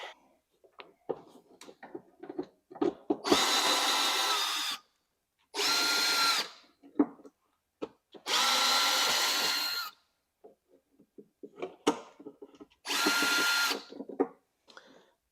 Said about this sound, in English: 1, 2, 3 Phillips head screws. We're going to remove that out of our way.